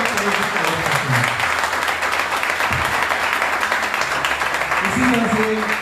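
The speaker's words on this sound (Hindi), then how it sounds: "इन भाई बहनों का जोरदार तालियों से स्वागत करते हैं।" A congregation at a Punjabi church in the UAE applauds in welcome during a Resurrection Day service, steady crowd clapping with talk and low voices running beneath it.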